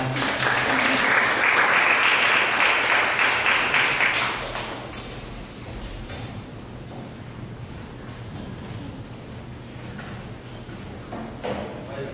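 An audience at a forum applauds as panelists return to the stage, steady clapping for about four seconds that then thins out into scattered claps and quiet room noise.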